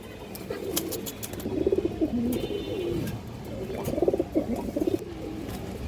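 Bagha pigeons coo in a series of soft, rolling calls over a steady background murmur, with two clearer bursts of cooing around the middle of the stretch.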